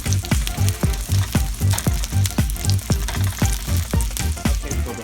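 Fries frying in hot oil in a pan, a steady sizzle with a regular bubbling pulse running throughout, close up and with no talk.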